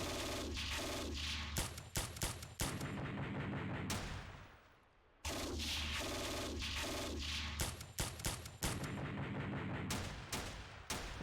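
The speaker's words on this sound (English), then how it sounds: "That squad, yeah, they're going to keep firing at that guy" Squad gunfire in the wargame Steel Panthers: rapid, dense volleys of small-arms and machine-gun fire rattle on loudly, pause briefly into near quiet, then resume in sustained bursts.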